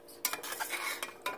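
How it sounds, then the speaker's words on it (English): Turnip greens are stirred in a pot, with a few quick scraping and rustling strokes against the metal, fairly faint and close, and no voices. "now what I'm going to do is stir it all up"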